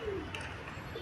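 A pair of pigeons for sale giving a soft, low coo, brief and faint against background noise.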